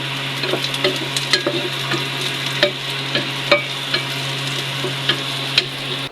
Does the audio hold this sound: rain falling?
no